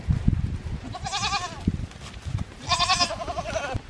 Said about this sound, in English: I'm being swarmed by goats because I have just a little bit of feed.